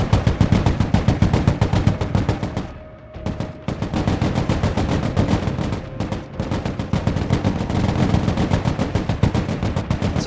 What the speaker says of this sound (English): we're just going to engage these hovercraft with machine gun only, just to demonstrate what machine guns can do